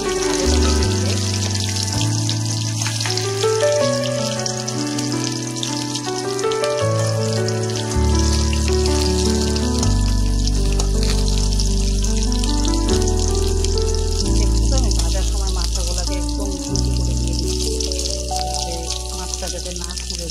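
Onion-filled puli dumplings frying in hot oil, giving a continuous bright sizzle heard under loud sustained background music.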